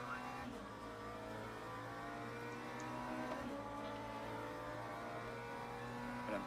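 An LMP2 prototype race car closes in from behind in the Le Mans Ultimate racing game at Sebring, a steady, droning engine note held at high revs under a constant layer of car noise.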